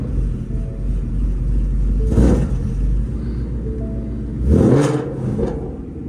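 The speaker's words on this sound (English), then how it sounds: "this is what a warm start of this car sounds like." A Ford Mustang GT with a Borla exhaust starts warm with a loud, close burst of cranking and a catch, then settles into a deep rumbling idle, followed by a second sharp rev blip near the end.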